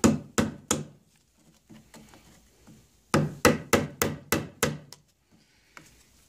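Sharp metallic-wooden light hammer taps on a 1979 Evinrude 55 HP outboard gearcase: three quick strikes, a pause with faint rustling, then a rapid run of six evenly spaced taps, close and fairly loud.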